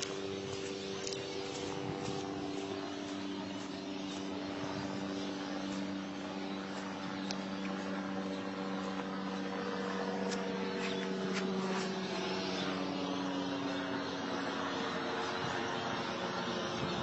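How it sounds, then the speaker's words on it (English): A steady, low mechanical drone with a rhythmic beating hum of a shark-spotting helicopter passing overhead at a distance at Kalbarri, over constant outdoor background noise. "Helicopter up there, they normally spot sharks and whatnot during the day."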